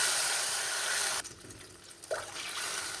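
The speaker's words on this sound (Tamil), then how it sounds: "நான் 1 கப்புக்கு 2 கப்பு தண்ணி ஆட் பண்ணிக்கிறேன்." Water poured into a pan for rice upma, a steady loud splashing pour that stops abruptly, followed by a short quieter stretch with a small clink.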